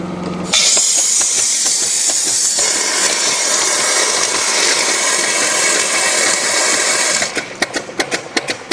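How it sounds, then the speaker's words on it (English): A StreetPrint Rapid Sprayer II blasts compressed air, clearing coating from its hopper with a loud, steady broadband hiss. The hiss runs for about seven seconds, then breaks into sputtering bursts as the flow tapers. "I'm just going to turn on the air now."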